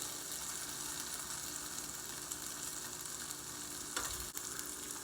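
Potato gnocchi frying in melted butter in a skillet, giving a steady, even sizzle that holds for the whole stretch, with a brief scrape or clatter near the end.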